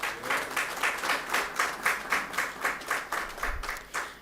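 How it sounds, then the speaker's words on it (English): An audience at a homecoming welcome in Dominica for an athlete who set national records applauds in a steady, rhythmic unison clap, each beat distinct and evenly spaced, fairly loud and close. "for this, we want to applaud you."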